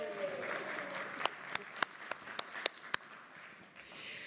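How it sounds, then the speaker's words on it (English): Applause in New York City Council chambers, a soft wash of clapping from the room with several sharp, distinct claps standing out near the microphone, the sound thinning toward the end. "Now you can applaud."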